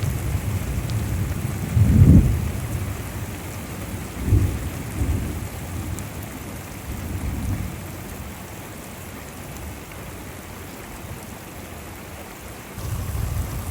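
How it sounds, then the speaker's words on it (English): Torrential thunderstorm downpour, steady dense rain hissing throughout with several low rumbles of thunder rolling in, the loudest near the start and others fading in and out; no voices. "We have a torrential downpour right now"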